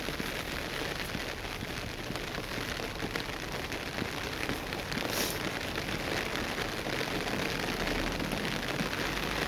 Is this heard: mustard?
no